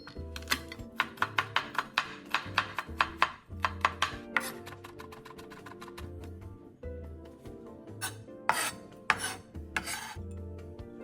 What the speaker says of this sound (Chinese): 30克蒜瓣，一樣剁碎。